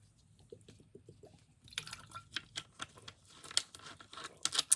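Someone drinking water: a few soft gulps and swallows up close, followed by wet, clicking mouth and liquid sounds, quiet and without speech.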